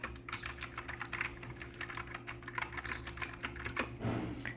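Rapid typing on a Husky Gaming Blizzard 60% mechanical keyboard with Gateron Blue switches, a dense run of crisp clicky keystrokes, close and fairly quiet, ending in a brief pause.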